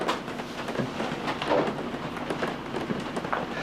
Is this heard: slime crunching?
no